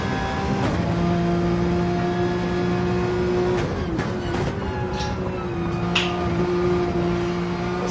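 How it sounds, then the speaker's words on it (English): Porsche and BMW race car engines in a DTM racing video game, a steady droning whine holding an even pitch with slight rises and dips as the cars run close together, loud and continuous with no talk. "driving with Ghost here in the Porsche, chasing down Speedy in the BMW"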